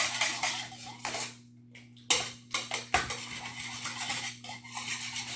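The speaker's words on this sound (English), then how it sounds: "So we're going to give this a good whisk." Eggs whisked in a bowl for French toast, quick clinking strokes of metal against the dish in uneven bursts with a short pause midway, over a steady low hum and without speech.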